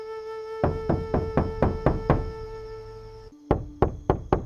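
Knocks strike a palace gate as a storytelling sound effect: a run of about six evenly spaced heavy thuds over a sustained tone, then a short pause and three or four more loud knocks, close and alone.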